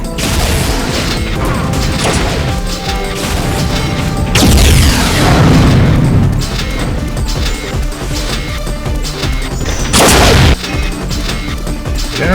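Rocket explosions from an 8-ball launcher in the multiplayer shooter Unreal, loud crashing booms over constant game noise, with two big blasts standing out about six seconds apart.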